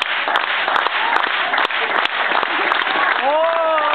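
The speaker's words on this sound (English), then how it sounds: "All right, everybody, clap along with me." An audience at a comedy juggling show applauds and claps along in a dense, continuous burst, with a few sharper claps standing out and a brief voice near the end.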